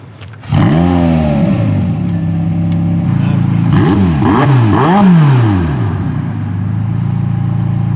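A 2022 McLaren 720S Spider engine revs hard, with rising and falling throttle blips and a throaty exhaust roar, loud and close.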